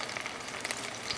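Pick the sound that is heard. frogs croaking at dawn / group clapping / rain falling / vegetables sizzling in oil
vegetables sizzling in oil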